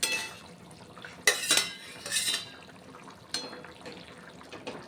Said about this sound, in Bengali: দিয়ে দিলাম মাছগুলো। এবার 2 মিনিট মতন ফুটিয়ে তারপর আমি নামিয়ে নেব।